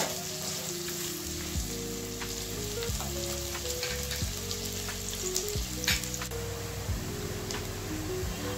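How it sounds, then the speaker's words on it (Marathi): Chopped onion fries toward golden in hot oil, giving a dense, even sizzle close by, with occasional soft stirring scrapes and light ticking pops. "हा कांदा आपल्याला सोनेरी रंगावर परतून घ्यायचा आहे"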